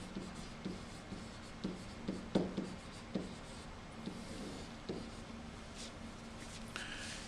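A pen scratches out short strokes on paper during a math lesson on finding slope from a graph, a quiet, close series of irregular taps and scrapes with brief pauses between marks.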